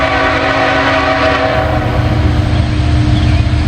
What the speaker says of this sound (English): We got 3 locomotives.